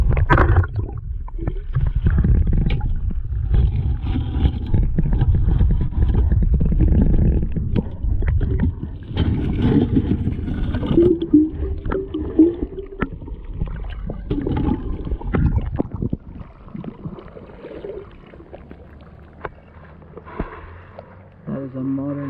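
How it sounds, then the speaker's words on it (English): A camera held under fast white-water river current picks up muffled, turbulent rumbling and gurgling, loud and churning, fading toward the end, with a voice speaking briefly. "I'm gonna put the camera under the water"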